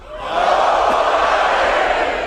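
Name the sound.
audience applause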